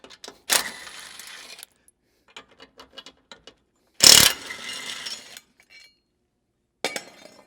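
Close ratchet clicks sound in short quick bursts while bolts underneath are worked loose, separated by brief rattling metallic clinks and pauses of silence.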